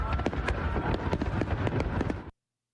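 Fireworks crackle and burst in a dense, rapid volley of sharp pops and booms, loud and continuous before cutting off abruptly into silence.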